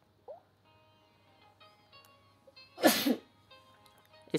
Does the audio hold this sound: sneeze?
yes